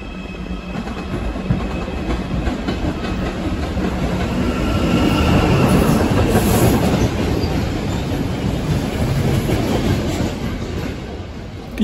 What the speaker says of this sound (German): den Güterzug schauen wir uns natürlich auch noch mal genauer an.